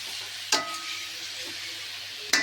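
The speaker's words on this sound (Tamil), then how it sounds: "இப்போ ஃபஸ்ட்டு இதை ஒரு நிமிஷம் வதக்கிக்கலாம்." Potato and capsicum gravy with ground masala and added water sautés in a pan, giving a steady low sizzle throughout, with two sharp stirring clinks from a utensil striking the pan about two seconds apart.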